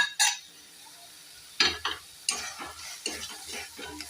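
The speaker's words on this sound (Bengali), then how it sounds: "ভেজে রাখা ক্যাপসিকাম, পেঁয়াজ আর সুইট কর্ন সেটা আমি এর মধ্যে মিক্স করে দেবো।" Pan stirring of fried capsicum, onion and sweet corn for masala macaroni: a sharp scrape, a pause, then a run of repeated scraping strokes with a soft sizzle underneath, close by.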